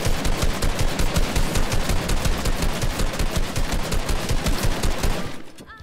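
Rapid automatic gunfire from a competitive shooter video game, loud and sustained bursts of dense shots filling nearly six seconds before cutting off abruptly at the end.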